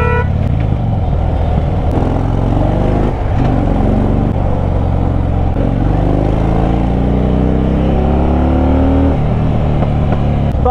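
A Harley-Davidson Fat Bob Dyna motorcycle rides slowly toward a service centre, its engine giving a loud, close, continuous rumble that rises and falls gently with the throttle, with no talk over it.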